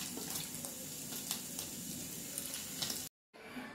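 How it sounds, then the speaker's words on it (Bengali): Fish roe pakoras frying in oil, a faint, steady crackling hiss with light spatter, cut off briefly near the end before resuming; no one speaks. "আমি বাকি বড়াগুলো বা বড়া বলি বা পকোড়া, বাকিগুলো আমি ভেজে নিচ্ছি"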